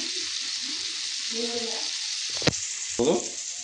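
Egg masala with spices fries in a pan, a constant sizzle under a short stretch of talk, followed by two sharp scraping strokes of a spoon stirring the mixture near the end.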